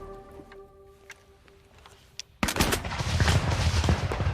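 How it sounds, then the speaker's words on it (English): Scattered single shots crack faintly at first, then a sudden burst opens into dense, continuous gunfire and cannon-like rumble at the start of the Battle of Waterloo, loud and sustained. "Gunfire signals the beginning of the Battle of Waterloo."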